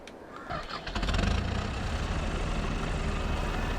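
A tractor engine in a farming video game cranks and catches, settling into a loud, steady low rumble that runs alone to the end.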